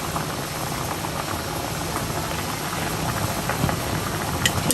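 Potatoes boil in a pot of water, a steady dense bubbling and rolling churn with small pops and gurgles, close and continuous with no talking.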